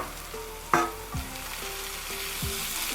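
Crushed ginger and garlic fry in a pan for a biryani, giving a close, constant sizzling hiss with a sharp clank of a spoon and a few light scrapes.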